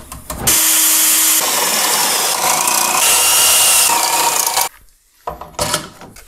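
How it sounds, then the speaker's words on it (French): A power drill bores holes in a metal bracket being made for a custom turbo install on a Seicento Abarth 1.1. The grinding whine is loud and close and runs for over four seconds before cutting off, followed by a few clatters. "Et je vais faire des trous dans ça."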